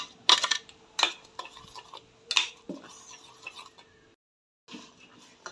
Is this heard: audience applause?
no